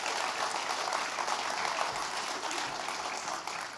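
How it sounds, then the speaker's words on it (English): At a Matariki awards ceremony, an audience breaks into a long, loud round of applause, dense and continuous, filling the hall without a break. "let's give them another huge round of applause"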